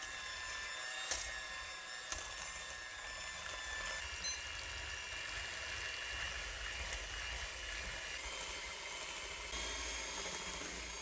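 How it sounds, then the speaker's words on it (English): Stand mixer beating three eggs with white and light brown sugar on high speed in a large bowl, a continuous steady motor whir with a bright high hum, fairly faint and alone. "We're going to beat it on high speed for 10 minutes."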